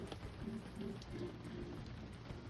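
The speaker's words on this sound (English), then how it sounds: "It is a rainy day. Very rainy." Steady rain falls on a cold market day, a continuous patter on surfaces that stays fairly soft and close without any talking.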